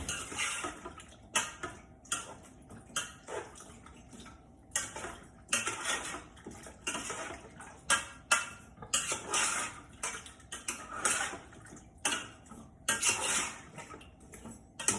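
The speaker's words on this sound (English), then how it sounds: "We're going to stir in all these good flavors." A spoon stirs chicken broth into chitterlings in a metal pot, with repeated close clanks and scrapes against the sides in an irregular rhythm that continues throughout.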